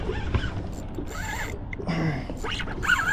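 A fishing reel's drag gives off a scatter of mechanical clicks and thin, creaky squeals while the line fights a bluefish. The sounds are close and moderately loud, against outdoor background noise.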